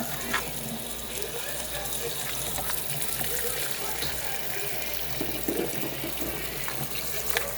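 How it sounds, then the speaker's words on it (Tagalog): Hot water pours steadily over live crabs at a sink before cleaning, a continuous close rushing splash that runs the whole time with a few faint clinks and soft background noise. "Inanok muna ng ano bago ko linisin. Mainit na tubig."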